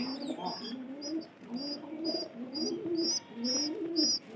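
Soft, repeated low cooing from a pigeon close by, steady and rhythmic, with faint high chirps over it.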